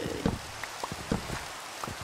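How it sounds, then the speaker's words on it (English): Rain falls in the Minecraft video game as a soft hiss with scattered distinct drop ticks, fairly faint and steady, with no one speaking over it. "It's raining now."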